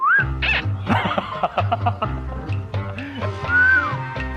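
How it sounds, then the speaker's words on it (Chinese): A person on a mystery-solving game show whistles short rising-and-falling notes near the start and again near the end, mixed with other squeaky, animal-like vocal noises in between. "吹口哨"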